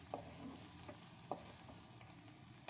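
Mixed vegetables with garam masala being stirred in a pan, a soft steady sizzle with a few faint scrapes and taps of the spoon, quiet and close.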